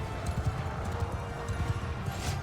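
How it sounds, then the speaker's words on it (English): Horses charge in a Mount & Blade II Bannerlord battle, their hooves drumming in a steady, rolling clip-clop close by with a faint whinny buried in the dense thud of the gallop. "Do my best not to get in the way of my horses as they're charging through."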